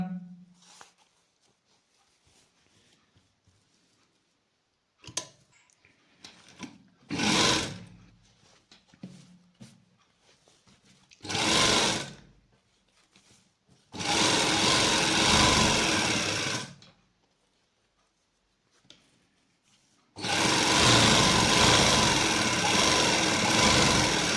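An electric sewing machine stitching a straight salwar with folded buckram runs in separate bursts: short whirs early on, then longer sustained runs of rapid, loud, close mechanical chatter, with quiet gaps between them.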